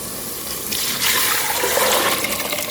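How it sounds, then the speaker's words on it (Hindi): Water pours steadily into a cooking pot of toor dal fried with spices, a continuous splashing rush that grows fuller partway through, with no talk. "पानी के साथ दाल डाल देंगे, जितनी दाल हो उतना पानी डाल दें आप"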